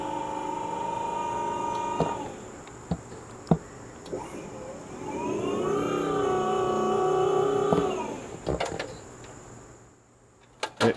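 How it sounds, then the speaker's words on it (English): Malfunctioning hydraulic lift actuator at the second stage of a rented lift, giving a steady mechanical whine and hum with rising and falling tones, punctuated by sharp clicks and clunks over about eleven seconds. "it was an actuator right at the second stage of the lift that makes the hydraulic cylinder fire or whatever activate"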